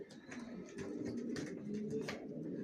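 Young racing pigeon squabs in a loft give soft, low cooing calls close by, a faint continuous murmur with a few brief rustles and no talking.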